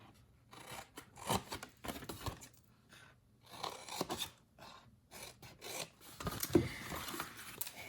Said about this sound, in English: we want to slightly trim these two tabs because this is the back of our box